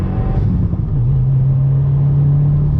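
A Subaru WRX in second gear pulls hard on throttle, its engine note rising into a steady loud droning rumble heard close from inside the car, with no talking.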